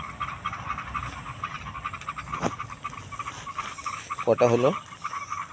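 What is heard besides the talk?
frogs croaking before rain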